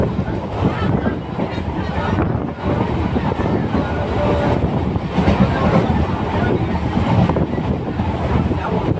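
Namkhana local passenger train in motion, heard from inside the carriage as a continuous loud rumble with wind buffeting, some faint voices mixed into the steady noise.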